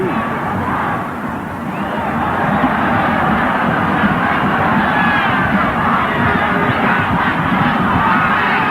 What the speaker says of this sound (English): That last goal has really pumped this crowd up a little bit more to another level